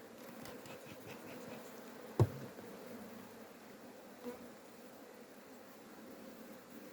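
Honeybees hum in a dense, continuous buzz around a beehive during a hive inspection, steady and close, with a couple of faint knocks.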